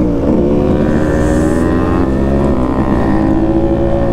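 A Yamaha RX135 two-stroke motorcycle runs on a ride, its engine droning loud and close with steady harmonic tone and slight rises in pitch, no talk.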